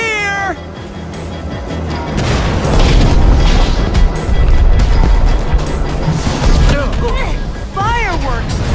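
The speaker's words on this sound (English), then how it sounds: "Fireworks!" Fireworks burst in a Minecraft: Story Mode battle against the Wither Storm, with loud booming blasts through the middle of the clip over a dense game mix, along with creature wails, a musical score and a voice speaking near the end.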